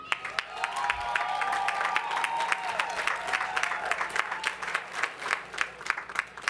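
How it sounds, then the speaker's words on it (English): A university commencement audience claps steadily, a dense patter of hands with some faint cheering mixed in, thinning out toward the end. "please, can we give a round of applause for Dr. Claude Tamiz?"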